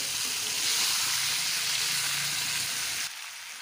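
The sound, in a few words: sautéing fried fish in oil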